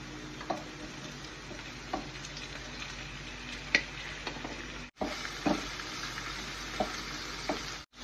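Shrimp with onion and garlic sizzling in a hot pan while being stirred, a steady close fry with scattered clicks and scrapes of the utensil, briefly broken by a cut partway through.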